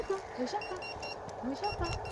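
Faint, high electronic beeps repeat at short intervals under nearby voices and background bustle.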